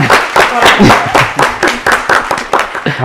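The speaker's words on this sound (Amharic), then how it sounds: "የጋራ ነው የሚመስለው ጭብጨባ አንድ ላይ ነው" Studio audience on an Ethiopian TV quiz show claps together in a burst of applause lasting about three seconds. The clapping has a loose, pulsing rhythm and is loud and close.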